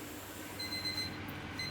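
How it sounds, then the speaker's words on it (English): A kitchen timer alarm beeps faintly while chocolate biscuits bake, with thin, high, intermittent electronic tones over steady background hiss. "So that's my alarm going off. I set a 10-minute timer"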